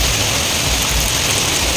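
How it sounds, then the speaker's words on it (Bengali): Heavy rain falling outside, a dense, loud, unbroken wash of noise filling the short moment with no distinct drops. "সেই লেভেলের একটা বৃষ্টি হচ্ছে কোনো কথা হবে না রাস্তায় যখন বৃষ্টি হচ্ছে দেখো বৃষ্টি"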